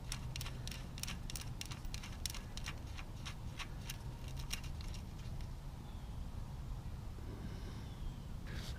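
Oil drain plug bolt being threaded back into a ZX10RR motorcycle engine, a run of quick metallic ticks and clicks from a wrench over a steady low background hum, with no talking.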